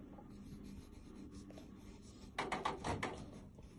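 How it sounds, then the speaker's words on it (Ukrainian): A pen writes answers on a sheet of paper during a classroom maths task: quiet scratching strokes, then a louder burst of rapid scribbling near the end, with no talk. "ми пишемо те, що ми знайшли"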